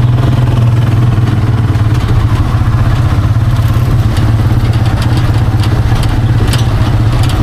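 A motor tricycle engine runs steadily close by with a low, clattering idle that holds throughout, alone with no talk over it.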